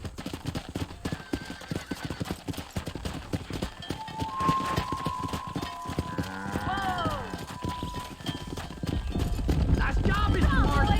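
Horses gallop and clop down a road in the video game Red Dead Redemption, a rapid steady hoofbeat under loud shouting voices, with a whinny and rumbling noise rising near the end.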